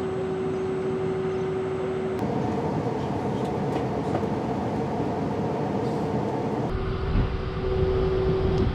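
Inside or beside the Caledonian Sleeper train on the Fort William to Glasgow route, a steady mechanical hum and rumble sounds while it prepares to depart, with tonal whines starting and stopping and no speech.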